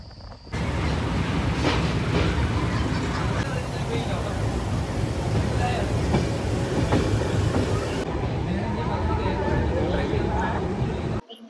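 A passenger train runs along the Konkan Railway toward Ernakulam in Kerala, a loud, continuous rumble with rhythmic clickety-clack of wheels on the rails and indistinct chatter mixed in.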